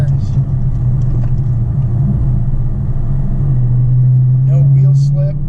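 A 2020 Dodge Challenger Scat Pack Widebody drives through tight turns in sport mode, its engine a steady low rumble inside the cabin that swells slightly toward the end, with faint chatter above it.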